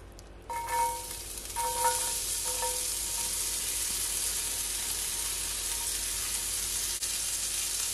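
Onion sautéing in oil in a pot makes a steady, bright sizzle that swells early and then holds evenly, with a few metallic clinks at the start and no talking.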